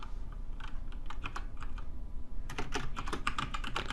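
Fingers clatter across a computer keyboard while entering database connection settings in Oracle SQL Developer, a steady run of close, crisp keystrokes with a short pause before a faster, denser burst.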